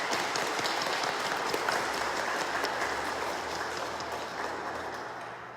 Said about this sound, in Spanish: Pues vamos a dar un aplauso